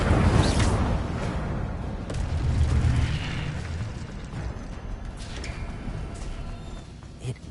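A fiery burst from the Incendio spell in Hogwarts Legacy, a loud whooshing, rumbling blast at the start that fades into a sustained crackling roar with a few sharper pops.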